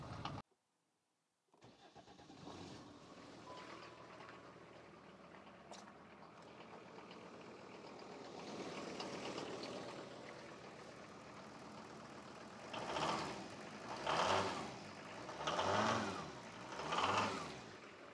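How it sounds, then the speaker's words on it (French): A warm diesel engine turns over and struggles to start, then runs with a rough, uneven idle before revving four times near the end. "comme tu as pu voir, il démarre difficilement quand même"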